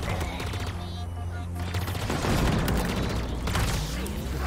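Covenant submachine gun firing in the video game Halo Infinite: continuous rapid automatic bursts with low booming rumble underneath, loud and dense throughout.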